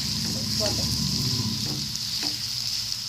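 Potato fry being stirred in a hot pan, a steady sizzle of frying with scraping stir strokes close up, no voices.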